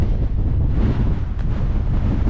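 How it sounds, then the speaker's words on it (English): Strong, steady wind buffets the microphone on an exposed Lake District fell summit near Seathwaite Fell, a loud continuous low roar with gusty rumble throughout and no voices. "Oh, the wind."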